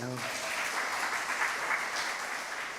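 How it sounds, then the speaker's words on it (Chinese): A church congregation at a Sunday worship service claps together in steady, dense applause that fills the room for about three seconds, starting right after a brief spoken word. "咱家拍手一下"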